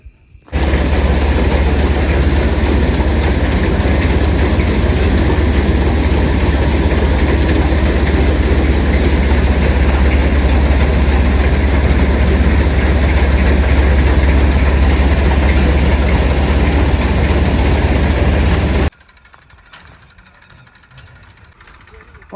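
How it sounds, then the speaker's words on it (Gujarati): A tractor engine runs steadily nearby beside a heap of cumin on a farm at night, a loud continuous low rumble that cuts off abruptly near the end, leaving quiet background. "તો જોઈ લો મિત્રો, અહીંયા કણે છે ટ્રેક્ટર"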